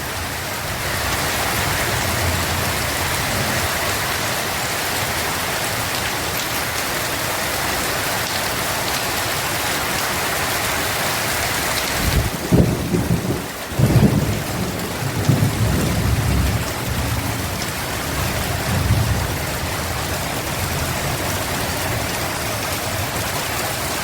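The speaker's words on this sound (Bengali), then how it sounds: "দেখেছো কেমন বৃষ্টি দেখতে পাচ্ছ তো" Heavy rain pours steadily in a dense, constant roar, while deep thunder rumbles in rolling bursts through the middle before the downpour carries on alone.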